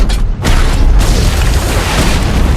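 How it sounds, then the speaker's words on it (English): Point defense cannons on a spaceship in The Expanse fire as a loud, sustained roaring boom that fills the whole span after a brief lull near the start, with no voices. "She's using the point defense cannons."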